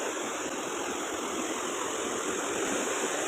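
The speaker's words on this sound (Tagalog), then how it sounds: "Ang lakas ng agos ng tubig." Rushing water pours continuously and loudly, a steady broad hiss of a small waterfall heard close by with no voices.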